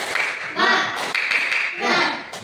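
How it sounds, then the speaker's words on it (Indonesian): A group of school staff claps a rhythmic spirit cheer, loud, close bursts of patterned hand clapping in short phrases, with voices chanting along. "Kita tepuk semangat dulu."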